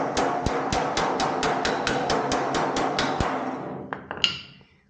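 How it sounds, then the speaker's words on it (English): A wooden hammer strikes the corner of a square metal tub about fourteen times in a quick, even rhythm with a ringing metallic tone, then a few scattered lighter knocks and a clank as the beating stops. "And then we're gonna take a hammer, for example, a wooden hammer."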